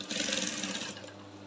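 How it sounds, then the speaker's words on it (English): A sewing machine stitching a seam on a long pencil skirt, a brief close whirring run of rapid needle strokes that slows toward the end, with no talking. "So I'll sew it down to the point where we want the structure"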